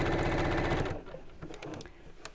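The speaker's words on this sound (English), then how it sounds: "And just keep sewing all the way around." A sewing machine runs steadily, close and loud, stitching around the bulky edge of a quilted drawstring bag, then stops after about a second, leaving only faint handling clicks and taps.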